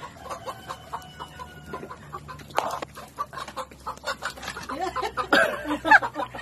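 Chickens clucking inside a coop in a chicken-catching game, with scattered clucks and squawks building into louder, busier calls toward the end. Heard close up, with no speech.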